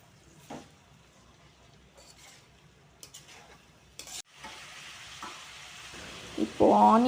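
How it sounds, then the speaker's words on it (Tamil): Onions fry in a pan for a prawn gravy, stirred now and then. The clip stays quiet at first, then a louder, continuous close sizzle takes over in the second half. "இப்போது ஆனியன் நல்லா ஃப்ரை ஆகிட்டு இருக்கும்போதே நம்ம வந்து சால்ட் ஆட் பண்ணிக்கலாம்"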